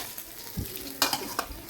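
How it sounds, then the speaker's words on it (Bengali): Prawns frying in oil in a kitchen with a spoon stirring, a brief soft sizzle broken by a few light scraping knocks against the pan. "এই যে এবার চিংড়ি মাছটা ভেজে নেব।"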